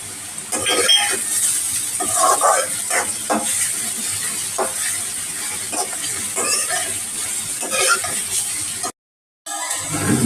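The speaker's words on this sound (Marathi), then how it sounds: "तर कांदा असा सोनेरी रंगावर येईपर्यंत मी याला चांगला परतून घेणार आहे" Onions with curry leaves sauté in a pan for chana masala, a moderate sizzle under repeated spatula scrapes and stirring taps, with a brief dropout near the end.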